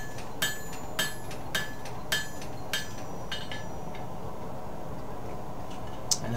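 A hammer strikes metal to upset a rivet-making tool, giving about six evenly spaced sharp clinks that gradually soften, then a pause and one last faint tap, close up with no talking.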